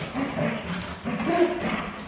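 A dog on a leash during training gives whimpering, whining yips that come in short bursts, close and fairly loud, with some shuffling noise around it.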